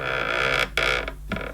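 A plastic bag door at the back of a 1970s Hoover Dial A Matic 1149 upright vacuum cleaner creaks open, a short close mechanical creak and click with a brief pause, then a second scrape.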